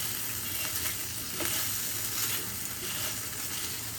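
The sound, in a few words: chicken frying with tomato ketchup, stirred in pan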